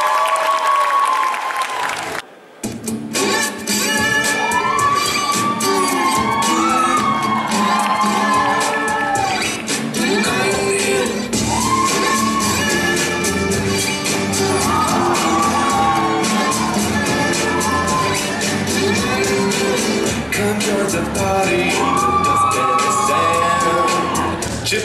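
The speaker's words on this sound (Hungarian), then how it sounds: "Nagy tapsot neki!" An audience at a cosplay competition bursts into applause and cheering for a contestant, with sustained clapping, whoops and shouts from a large crowd, plus bright tonal sounds running through it, loud and continuous after a short break near the start.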